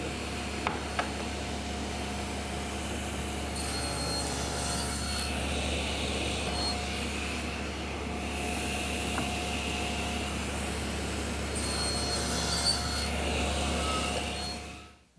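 A table saw cuts through wood stock held against a stop block, making a steady, continuous grinding roar that lasts about fifteen seconds with no talking.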